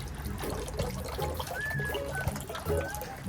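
Water trickles and dribbles steadily as hands are washed at the purification basin of a Japanese shrine at Oshino Hakkai, a close, continuous splashing with faint background murmur of voices.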